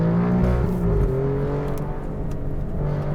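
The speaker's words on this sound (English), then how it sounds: "the factory box in this car, it's tuned so well with the resonance and the pops" Factory exhaust of an Alfa Romeo Giulia QV, heard from inside the car with the window cracked open. A loud, steady engine drone rises and settles under light throttle, with no talking.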